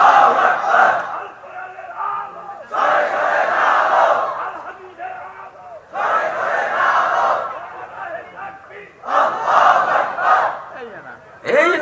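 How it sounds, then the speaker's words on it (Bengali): A crowd of men chants Allahu Akbar in repeated loud, unified bursts, four or five rounds of the call separated by brief pauses, close and echoing in a gathering. "মুরব্বি উঠে একটা তাকবীর দেন না"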